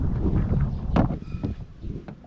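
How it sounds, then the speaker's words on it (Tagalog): Strong wind buffets a microphone outdoors near water, producing low rumbling gusts that swell and fade irregularly across the short stretch, with a few sharper bursts. "Nako, lumakas na naman ang hangin."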